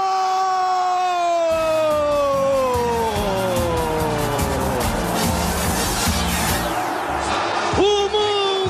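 São Paulo supporters roar at the final whistle of the 2004 Club World Cup final against Liverpool in Japan, a dense, loud stadium crowd cheering continuously, with sweeping horn-like tones over the roar.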